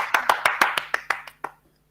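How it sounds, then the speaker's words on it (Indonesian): Group of students clapping together in a classroom, about nine sharp, evenly spaced claps in a steady rhythm that slows and fades out near the end, close and fairly loud. "Ayo tepuk tangan buat kalian semua"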